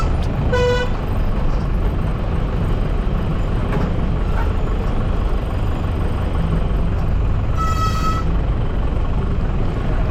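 Lorries crawl down the hairpin bends of the Dhimbam ghat road under a constant engine rumble, with a short vehicle horn toot near the start and another near the end.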